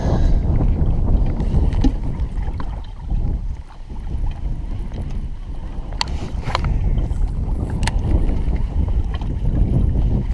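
Strong wind on the Delta during a fishing outing, buffeting the microphone as a loud, continuous low roar with shifting gusts and a few faint clicks from gear or the boat.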